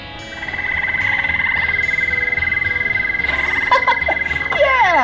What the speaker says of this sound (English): Yeah, that's the toad.